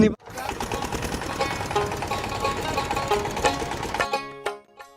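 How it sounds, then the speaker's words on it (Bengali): A motor boat crossing a river from the far bank at a char in Rajibpur, Kurigram, chugs with a loud, steady, rapid knocking engine rhythm that drops away near the end, leaving a fainter tonal hum. "ওই পার থেকে নৌকা চলে আসলো আমাদেরকে।"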